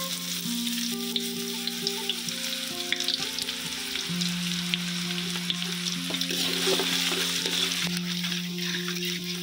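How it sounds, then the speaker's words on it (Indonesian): Onion frying in hot oil for squid fried rice, a steady close sizzle with faint stirring scrapes running unbroken throughout, no voices over it. "Ini bawang bombay kita goreng lagi."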